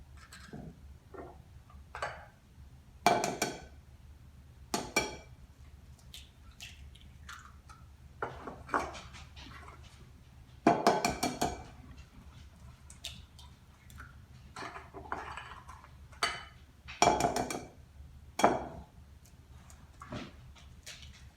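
Four eggs cracked one by one into a medium mixing bowl, with sharp isolated taps and cracks spaced several seconds apart over a quiet kitchen background, no talking.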